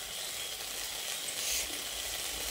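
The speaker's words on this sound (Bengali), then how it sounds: "আরও একবার ঢাকাটা খুলে নেড়ে চেড়ে নিচ্ছি।" Okra steams and sizzles softly in a pan as it gets stirred after being covered, a steady faint hiss with gentle movement throughout.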